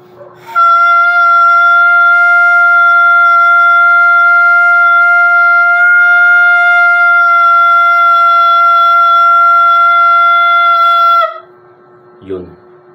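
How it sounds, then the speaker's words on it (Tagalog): A saxophone mouthpiece played alone with correct embouchure gives one loud, piercing, steady high squeal held for about ten seconds, then cuts off sharply. "ganito ang tunog ng mouthpiece"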